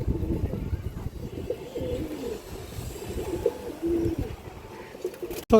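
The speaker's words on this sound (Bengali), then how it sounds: "এই যে দেখেন কবুতর, এগুলো সিলভার ব্রান্ডের কবুতর।" Silver breed pigeons coo softly in a loft, low rolling calls repeating close by while someone talks over them, with a sharp clack right at the end.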